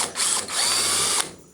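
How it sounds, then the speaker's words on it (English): A drill whines at high speed for about a second, briefly dipping once, then cuts off while drilling out a rivet on a 1960 Ford F100 door; close and loud with no talking. "Not really an exact science drilling out a rivet."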